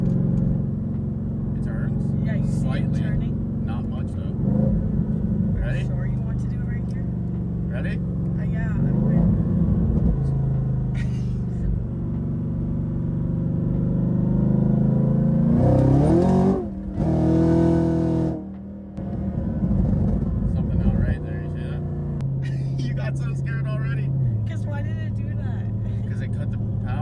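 A supercharged Chevrolet Camaro engine rumbles and rises in pitch as it accelerates, then cuts out briefly before steadying. People talk throughout, close by inside the car.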